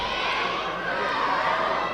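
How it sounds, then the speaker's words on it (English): A table tennis crowd at a WTT Macao match between Ding Ning and Chen Xingtong roars in a steady, sustained wash of cheering and chatter, with no distinct claps standing out. "The crowd are electrified right now."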